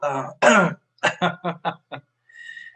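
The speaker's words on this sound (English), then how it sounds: "don't cough" A man clears his throat and coughs indoors, with a short throaty burst followed by several quick, close coughing or hacking pulses, then a faint high tone.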